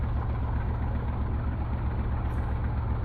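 An airplane engine idling in a flight simulator game after the plane is brought to a stop, a steady low rumbling drone held evenly throughout with no talking.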